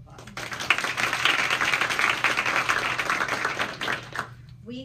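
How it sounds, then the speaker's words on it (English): An audience applauds a guest speaker at a networking event, clapping that swells quickly and holds for a few seconds before tapering off, moderately distant and not very loud. "Please give her a round of applause."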